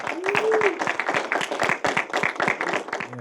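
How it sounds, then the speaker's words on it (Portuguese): An audience at a film screening debate claps in a fairly sparse, rhythmic round, individual claps distinct and close, with a brief voice rising over the start. "terminar pedindo uma salva de palmas para o Celso."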